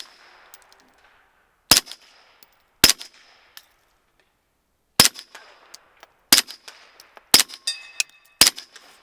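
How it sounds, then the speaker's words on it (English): Suppressed shots from a Flux Defense Raider pistol ring out in spaced single reports, roughly eight sharp cracks with ricochet pings and short metallic tails, close and loud against a quiet outdoor range. "The thing with shooting suppress is you hear a lot of ricochets going on."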